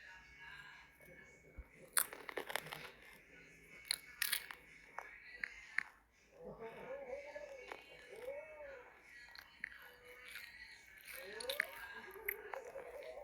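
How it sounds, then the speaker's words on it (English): Crunchy munching up close, with loud crisp bites and chewing crackles in irregular bursts, over a faint background of quiet voices and household noise. "Sorry for you hearing my extra crunch from me munching."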